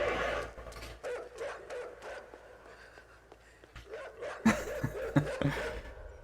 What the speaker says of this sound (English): Oh God, the dogs.